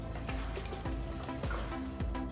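Dasani bottled water pours in a steady, continuous stream, with a few brief gurgles and splashes along the way and no voices over it.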